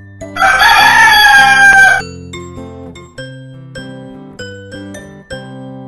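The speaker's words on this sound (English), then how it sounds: "Rooster." A rooster crows loudly once, a bright strained call of about two seconds, followed by light chiming music with no talking.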